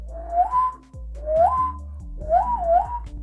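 A person whistles with the tongue in three clear phrases, each a bright tone that slides upward and wavers, heard up close and alone.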